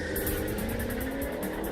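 A 2013 Ford Shelby GT500 Mustang does a burnout, a loud, dense, continuous roar with a rapidly pulsing hiss over it, steady throughout and with no voices.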